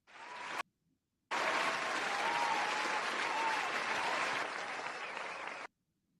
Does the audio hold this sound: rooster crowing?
no